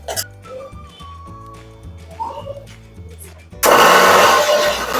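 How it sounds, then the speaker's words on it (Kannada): A mixer grinder grinding cooled masala for paneer gravy starts abruptly with a loud, steady whirring roar after a stretch of quieter background music. "ಈಗ ಅದನ್ನು ಗ್ರೈಂಡ್ ಮಾಡ್ಕೊಳ್ಳೋಣ"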